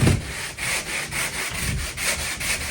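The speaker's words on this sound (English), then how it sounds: "this time you're going to be a little bit more aggressive with the sanding" Steady, aggressive back-and-forth sanding strokes on a drywall patch, a rhythmic rasp repeating about every half second, close and fairly loud with no talking.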